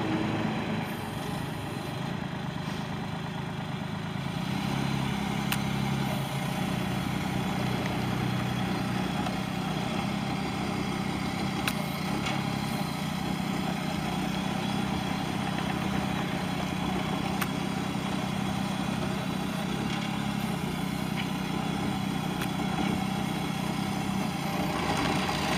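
A 2023 AgroTK NT45 compact tractor engine idling steadily, a continuous mid-pitched rumble with a constant drone throughout and no voices.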